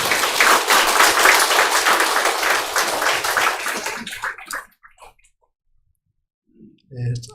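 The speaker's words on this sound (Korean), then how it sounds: "큰 박수로 환영하도록 하겠습니다" A church congregation claps in welcome for a guest, a dense burst of applause lasting about four seconds before thinning into scattered claps and fading to quiet, with a voice briefly at the end.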